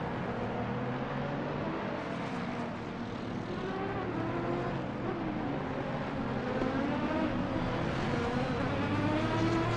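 GT3 race cars on a formation lap at the Silverstone circuit, their engines droning together in a steady, continuous roar with rising and falling pitch as the field weaves to warm the brakes, moderately loud and with no talk.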